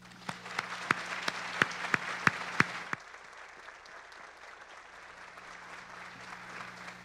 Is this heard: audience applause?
yes